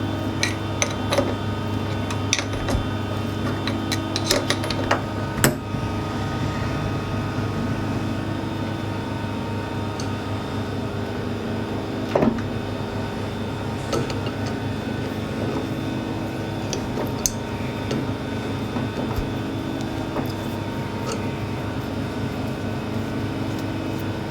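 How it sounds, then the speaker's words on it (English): A lathe threads a workpiece with a small, sharp die, giving a steady, close motor hum with tonal whine and a few scattered light clicks and ticks throughout. "Cutting a nice tight thread. These little dies are still nice and sharp."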